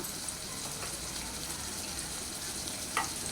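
Churi fish cooking in a pan with green chilies, a steady broadband frying sizzle throughout with a brief louder crackle near the end.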